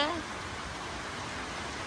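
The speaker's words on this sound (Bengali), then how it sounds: "সবাই দেখেন কি পরিমাণ বৃষ্টি নামছে।" Heavy rain pours down in a dense, even hiss with no let-up, with a short voice or tone near the start.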